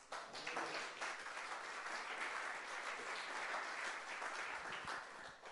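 A church congregation applauds and acclaims God, with sustained, dense clapping and cheering that fills the space steadily, heard from a little distance.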